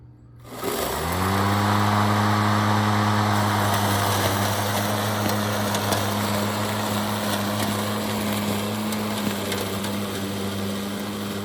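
A Mowrator lawn mower spins up within the first second and then runs steadily, blades at their highest RPM and drive on the slowest setting, with a loud, close motor whine and hum that holds throughout.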